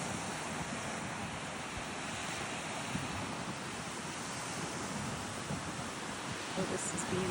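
Ocean surf and a steady breeze on the beach at St. George Island, Florida, a continuous loud wash of waves with wind rumble on the microphone throughout.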